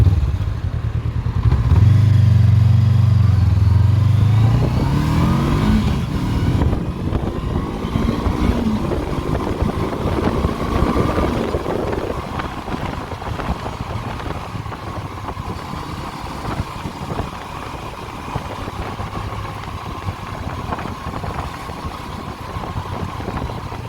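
A Honda CB400X motorcycle rides over rough, bumpy ground off road, its engine droning steadily close by with a loud start that eases slightly, mixed with clattering suspension and rattles as it crosses the ruts.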